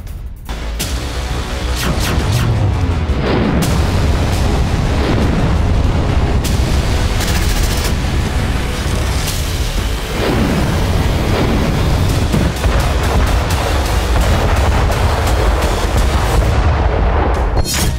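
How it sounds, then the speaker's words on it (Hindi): Sustained roaring blast of a North Korean ballistic missile launch, loud and continuous, with deep rumbling and crackling bursts throughout and no voices. "किम ने छोड़ी बैलिस्टिक मिसाइल"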